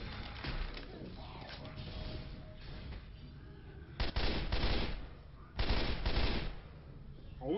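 Gunfire in the video game Left 4 Dead 2 rattles in dense automatic bursts, with two loud, heavier volleys toward the end over a constant din of game noise, fairly close.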